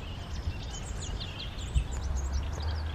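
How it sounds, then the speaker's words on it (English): Small birds chirp and tweet among the trees of a Cornish spring garden, with high, quick overlapping calls above a steady low outdoor rumble. "the birds are just chirping away"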